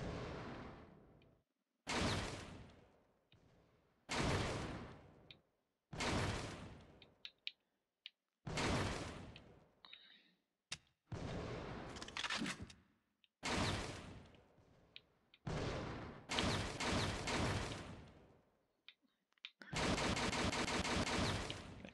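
Gunfire in the video game Fahrenheit while shooting at targets, a series of sharp loud shots and short bursts separated by brief silences, ending in a sustained rapid volley.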